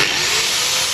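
A Toyota 1KZ-TE diesel engine runs after an overhaul, giving a loud, steady, close-up mechanical roar for about a second with no voices.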